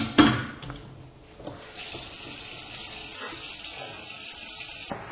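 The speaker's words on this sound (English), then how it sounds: "we're going to put 2 inches of water into the pressure canner" Water runs from a tap into a pressure canner, starting with a clunk and then a steady, close hiss of flowing water that cuts off sharply at the end.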